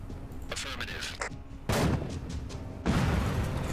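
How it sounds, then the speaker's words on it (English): Mortar rounds landing in the military strategy game Afghanistan '11: two heavy, booming impacts a second or so apart, each followed by a rumbling tail, after softer battlefield noise. "Okay, now we do have mortars here."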